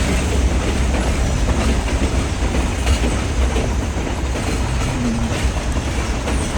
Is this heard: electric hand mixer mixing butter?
no